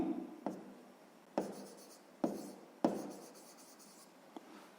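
A pen writes on paper during a sixth-grade maths exercise, with scratchy strokes and several sharp taps as the tip meets the page, close and quiet with no talk.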